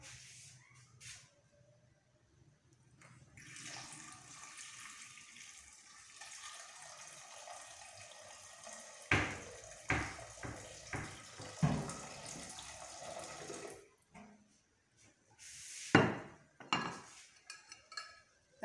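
Water is poured into a pan of cut potatoes for a potato omelette, a steady rushing splash lasting several seconds, followed by clinks and knocks of the pan and utensils.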